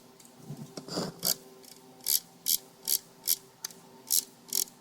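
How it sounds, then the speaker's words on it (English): Power drill with worn motor brushes, running in short bursts with a raspy, chattering mechanical whine. The pulses come in a fairly regular rhythm, close up and moderately loud. "I'm thinking it's probably the brushes making that noise"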